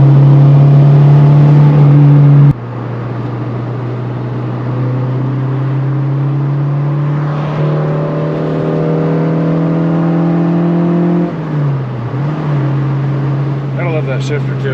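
A car engine on a back road, a K20, holds a steady hum that rises slowly in pitch as it accelerates through the gears, with a shift dip near the end, loud and close from inside.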